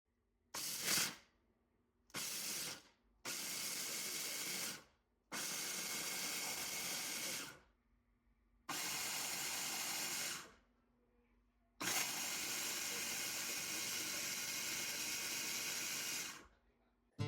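A food processor grinds peanut chutney with medium-spicy chili powder in loud bursts, six separate pulses of harsh whirring and rattling separated by short silences, the last running longest.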